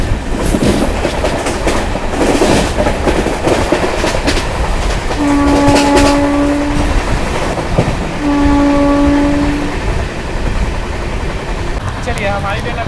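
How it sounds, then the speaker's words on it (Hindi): Indian Railways WAP-5 electric locomotive horn sounding two clear, sustained honks in succession over the continuous rumble and clatter of a moving train. "और क्या ही ज़बरदस्त हॉकिंग मारे भाई अपनी वेब 5 लोकोमोटिव"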